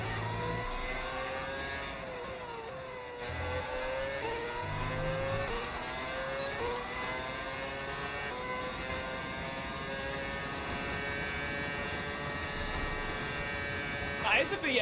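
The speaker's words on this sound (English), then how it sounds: "That is a V8 sound." A modded V8 engine in the F1 26 racing game revs continuously, its rising and falling harmonic whine sweeping up and down through gear changes, with a voice talking faintly underneath.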